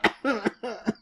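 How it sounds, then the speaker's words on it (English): A man's coughing fit, read aloud in a fantasy story setting: three harsh, close bursts of coughing with throaty rasp, closely spaced over a second with no talk. "then doubled over as a fit of coughing overtook him"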